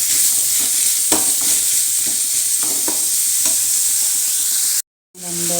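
Sliced onions with salt sauté in a hot pan, giving a loud, steady sizzle with intermittent scraping stirs. The sound drops out abruptly for a moment near the end, then resumes.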